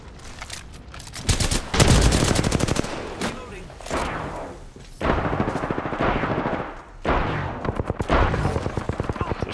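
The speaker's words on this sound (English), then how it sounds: "It's a shotgun." Rapid bursts of gunfire from Apex Legends gameplay, loud and close, coming in repeated clusters with short gaps between volleys, while voices talk beneath the shooting.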